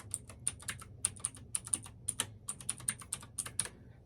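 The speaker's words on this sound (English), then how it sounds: "I got this mechanical keyboard with the ASMR" Mechanical keyboard typing: a close, steady stream of crisp, irregular key clicks with no talking, over a faint low background hum.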